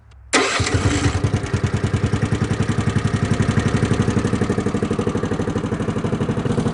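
A 1980s John Deere AMT 600 utility vehicle with a Honda engine cranks on electric start and catches at once, then settles into a steady, loud, close chugging idle with a quick regular pulse and no talk.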